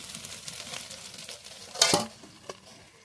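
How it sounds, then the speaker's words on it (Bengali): An egg sizzles in a hot pan on a village kitchen fire, a quiet steady hiss broken by a few sharp pops and a clank of the pan about two seconds in. "ডিম কড়াই শুদ্ধ নামিয়ে রাখি না, ঠাস ঠাস করে ফুটছে।"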